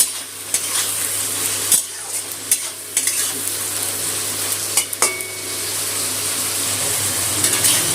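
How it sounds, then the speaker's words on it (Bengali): Prawns coated in salt and turmeric fry in hot oil with a steady close sizzle, broken by sharp clacks and scrapes of a spatula stirring against the pan. "চিংড়ি মাছটা হালকা করে ভেজে নেবো,"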